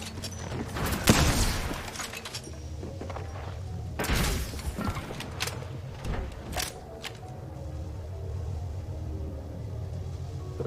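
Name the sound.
enemy gunfire in the video game Apex Legends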